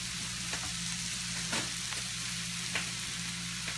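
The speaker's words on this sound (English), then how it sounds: "You can smell that garlic simmering in there." Mushrooms and garlic sizzle in a pan with a steady, even frying hiss, punctuated by a few soft utensil taps, close and continuous without speech.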